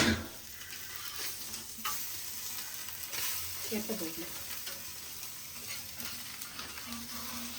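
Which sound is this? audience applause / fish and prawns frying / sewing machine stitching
fish and prawns frying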